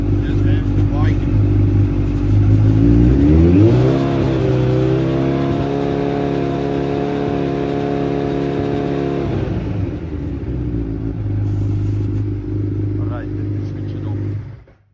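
Suzuki Hayabusa motorcycle engine, with a charging problem, rising from idle and held at raised revs for several seconds with a steady loud whine, then dropping back to idle, close by.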